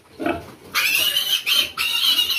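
Pigs squealing loudly at a farm breeder pen during strong monsoon wind, a short low grunt followed by three harsh, high squeals in quick succession, close and filling the clip.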